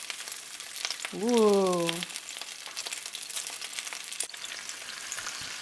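Flipped meat sizzles on a hot grill, a steady frying hiss throughout with a brief voiced exclamation partway through.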